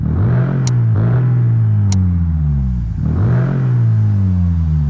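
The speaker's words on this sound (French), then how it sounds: "pendant que Jessie faisait vrombir le V8, le sortant de son silence" A V8 car engine revs hard in a dramatic horror audio drama, rising and falling in three loud, close surges with a steady low rumble underneath and no voices.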